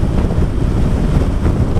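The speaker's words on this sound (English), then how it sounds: "The wind, I am getting some wind." Steady, loud roaring wind buffeting the microphone while riding a Triumph Sprint 1050 motorcycle at around 70 mph, a continuous broadband rush with no talking.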